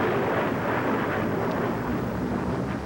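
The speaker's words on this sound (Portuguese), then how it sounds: "Primeiro, uma fantástica explosão." A vast cosmic explosion evoking the birth of the universe, a continuous deep rumbling roar that stays loud and steady throughout like rolling thunder, with no voices.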